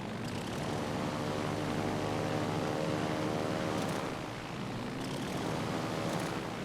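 Aircraft engines droning steadily overhead in World of Warships Legends, a continuous propeller hum holding at the same level throughout, with no talk.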